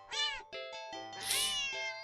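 A cat in the horror video game Do Not Take This Cat Home gives a few clear, drawn-out meows in succession, moderately loud and alone with no talking.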